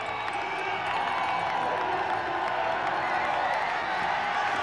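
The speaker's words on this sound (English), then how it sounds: "You hear the crowd just reaching a crescendo, no question." Big crowd cheering and roaring at the men's Olympic moguls freestyle skiing final in Albertville, a steady loud wash of voices and whoops that holds for the whole stretch with no break.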